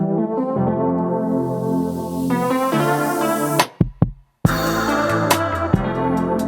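A looped hip hop beat with layered melodic chords, breaking into a quick drum fill and brief dropout before the full groove returns with punchy hits.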